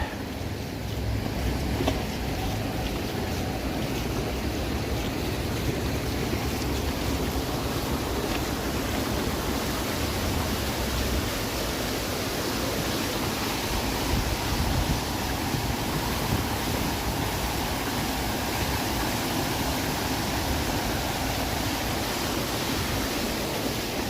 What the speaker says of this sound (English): One of the better fountains downtown for sure.